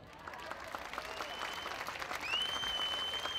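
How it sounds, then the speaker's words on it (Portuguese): A live show audience gives warm, sustained applause, with dense clapping spread across the whole stretch at a moderate distance and only faint voices underneath. "E um forte e caloroso aplauso para todos vocês por estarem aqui"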